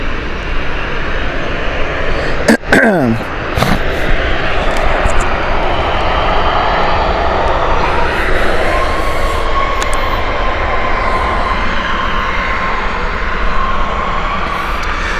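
Boeing 787 airliner at Gatwick Airport, a steady loud jet engine roar filling the whole stretch with a brief sharper burst near the start, continuous and fairly close.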